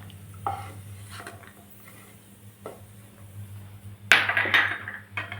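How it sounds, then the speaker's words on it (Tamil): Cashews and vegetables such as carrot are sautéed in oil in a pan, with a low steady sizzle and a few spoon scrapes. A louder metallic clatter and burst of stirring comes near the end. "இதை எடுத்துக்கிட்டு இதுலேயே இந்த காய்கறியில் வதக்கிக்கிறோம்."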